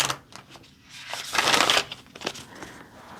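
A deck of tarot cards being shuffled by hand, close and crisp, with riffling bursts and a louder flurry of card slaps in the middle before softer taps.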